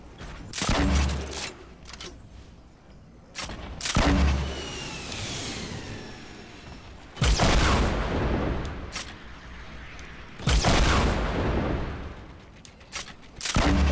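Grenades burst in the video game Fortnite, four loud, sharp explosions spaced a few seconds apart, each trailing into a crackling rumble, with lighter impacts and pops in between.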